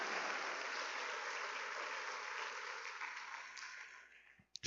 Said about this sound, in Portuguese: Pode aplaudir mesmo o Senhor.